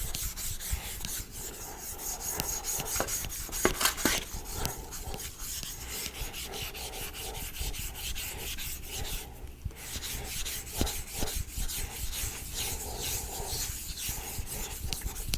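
A knife blade is drawn back and forth across a 6000 grit Nano Hone ceramic whetstone in steady, close, rhythmic rasping strokes, with one brief pause, and no talking.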